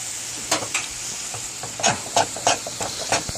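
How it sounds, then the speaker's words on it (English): Ground beef browning in a hot pan, a steady close sizzle and hiss broken by several scraping stirs of a utensil. "brown off the ground beef"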